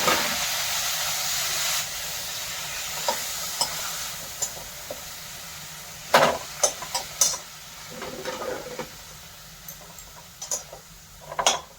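Onion and garlic fry in a pan with a steady low sizzle, broken by occasional scraping stirs and sharp clinks of a utensil against the pan, heard close up with no talking.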